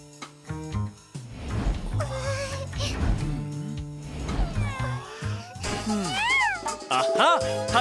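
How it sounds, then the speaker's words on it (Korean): A cat meows repeatedly, several drawn-out, rising and falling meows up close, loud and expressive with little else around. "고양이?"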